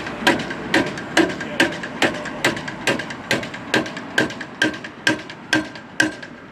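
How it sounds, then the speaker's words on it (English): A hammer strikes to tighten the wheel of a 1935 Alvis Speed 20 SC, giving about fifteen sharp, evenly spaced metallic blows, loud and close with a steady rhythm. "Wheel tightening going on."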